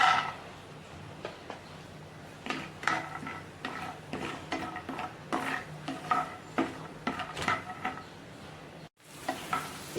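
Peanuts roast in two spoons of oil in a pan, a quiet sizzle under irregular clinks and scrapes of a spoon stirring against the metal, with a brief pause near the end.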